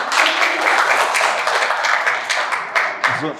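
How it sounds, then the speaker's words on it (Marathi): Audience applause in a seminar hall on financial planning, a steady, moderately loud wash of many hands clapping that holds for several seconds before thinning into a few scattered claps at the end. "जोरदार टाळ्या सरांसाठी."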